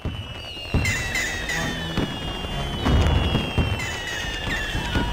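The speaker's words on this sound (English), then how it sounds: "Watch out for that firework." Fireworks burst repeatedly in the game LEGO Ninjago: Shadow of Ronin, sharp pops and booms scattered over a crackling, hissing background, loud and close.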